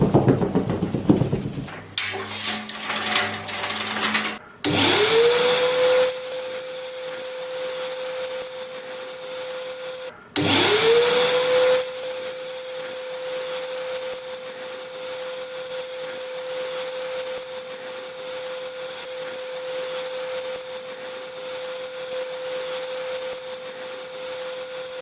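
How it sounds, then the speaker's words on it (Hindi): An Agaro ACE wet and dry vacuum cleaner runs in blower mode, starting with a loud whoosh, cutting out briefly, then restarting into a steady, powerful high-pitched whine that holds for about fifteen seconds. "अब हम दिखाते हैं आपको इसकी ब्लोअर की पावर।"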